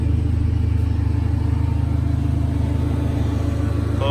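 A Dodge Neon's engine runs at a steady, close idle-like drone with a constant low hum and no voices.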